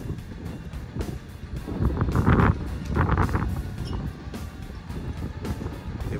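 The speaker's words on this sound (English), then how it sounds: "Look at this wind." Strong wind blowing outdoors, buffeting the microphone in a steady roar that swells in gusts, with no talk.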